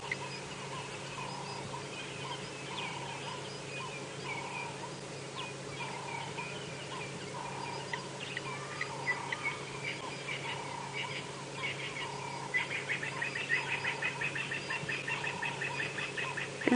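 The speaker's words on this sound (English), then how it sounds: "the birds are just starting to wake up." A dawn chorus of many birds calls across the African bush at sunrise, with continuous overlapping chirps and whistles and a turkey-like gobbling rattle building toward the end over steady ambient hiss.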